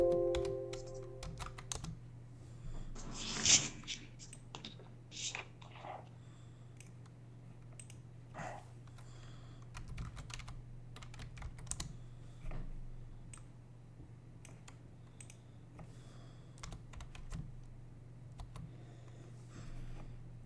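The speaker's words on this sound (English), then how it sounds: "I'm typing the host name so that you see the difference there" Typing a host name on a computer keyboard, with scattered bursts of close, crisp key clicks over a faint steady hum and no talking.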